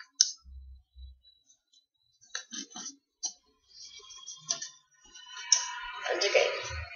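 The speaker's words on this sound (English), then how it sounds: "Next, I'm going to fold this" Paper being folded by hand into an origami beetle, producing scattered soft creases and crisp crinkles close up, with pauses between folds and a longer rustling crumple near the end.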